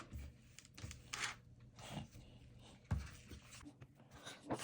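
Cocoa cake batter is stirred by hand in a bowl, giving faint, soft scraping and swishing strokes in an irregular rhythm, heard close and quiet with no talking.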